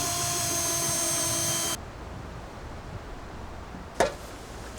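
A power drill pre-drills wood for a suspended treehouse platform, its steady whine running loud for under two seconds before cutting off, followed by a quiet pause and a brief knock.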